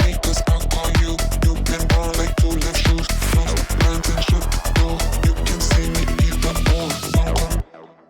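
A techno FX sweep rises over four bars on top of a loud, steady kick-driven loop, then cuts off abruptly near the end.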